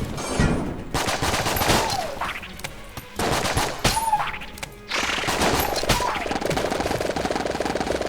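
Enter the Gungeon gameplay is full of loud, rapid gunfire, with bursts of shots separated by brief gaps over a busy game soundtrack and effects.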